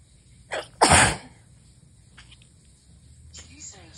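A strong human sneeze, loud and close: a short lead-in burst followed by one explosive blast, then quieter breathing and faint voices afterward.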